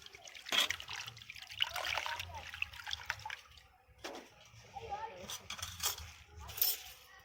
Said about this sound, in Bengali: ধনে পাতাটাকে পরিষ্কার করে ধুয়ে নিচ্ছি জলে।